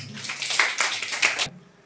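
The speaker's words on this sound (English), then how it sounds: "Clap for him." A short round of classmates clapping for a student in a classroom, a quick flurry of hand claps lasting just over a second before stopping abruptly.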